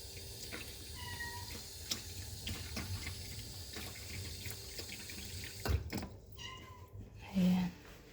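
A few soft, high kitten meows come over running tap water, with a brief louder clatter near the end.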